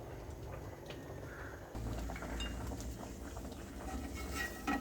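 Cashews dropped into a pan of hot ghee for kadala payasam, a steady close sizzle and spatter that swells and stays loud, with faint clinks of a utensil against the pan.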